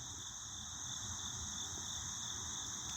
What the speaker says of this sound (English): Y'all hear the crickets? And crickets and still chirping.